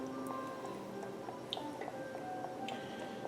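Orange sauce with zest poured over pork chops in a pan, soft wet dripping and squishing sounds, quiet and close, with a few small ticks and no talking.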